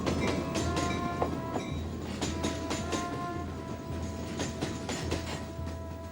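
A passenger train bound for New York rolls steadily along its rails, giving a continuous rumble with a regular clickety-clack of wheels over the joints, loud and close throughout.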